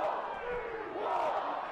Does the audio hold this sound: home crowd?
yes